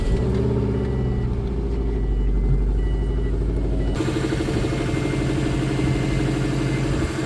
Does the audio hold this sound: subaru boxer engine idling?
yes